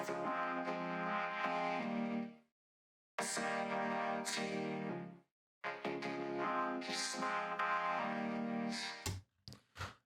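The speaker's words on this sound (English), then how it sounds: "which is fed by a Sylenth that plays the chords, a simple saw wave." Vocoded chords driven by a simple Sylenth saw wave play as sustained, harmonically rich synth phrases in three main bursts separated by short silences, ending with a few clipped stabs.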